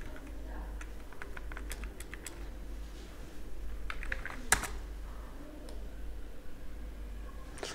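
A computer keyboard clicks faintly in scattered bursts of keystrokes in a quiet room, with a single sharper tap midway.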